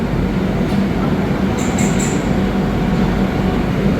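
An Indian express train pulling out of Howrah station, a steady low rumble and rolling wheel noise with a brief high squeal partway through, heard up close from on board.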